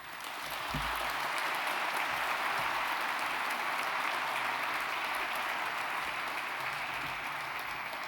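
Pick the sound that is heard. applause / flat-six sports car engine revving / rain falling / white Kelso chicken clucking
applause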